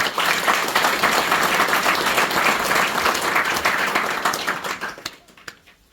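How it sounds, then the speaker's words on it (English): A golf club audience gives a big, loud round of applause that rolls on densely for several seconds, then thins to a few scattered claps and fades out. "they really deserve a big round of applause"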